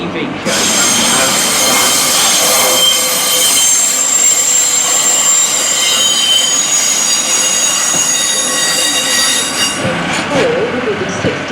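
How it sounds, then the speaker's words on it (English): A Class 142 Pacer train rolls in with loud, sustained high-pitched wheel squeal over rumbling carriages, continuous for several seconds before easing off. "there's a Class 142 coming in, so we get a pacer"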